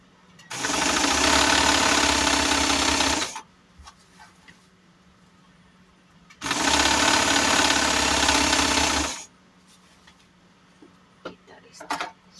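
A sewing machine stitches wide fabric for a large foldable bag with a zipper in two steady, loud runs of about three seconds each, separated by quiet pauses with faint handling sounds.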